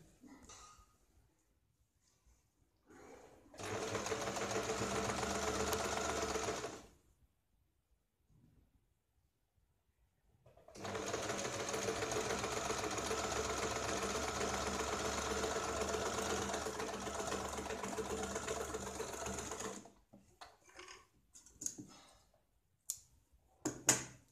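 A sewing machine stitches a Katori blouse in two long, steady runs separated by a pause, followed by a few short clicks and bursts near the end, with no talk over it.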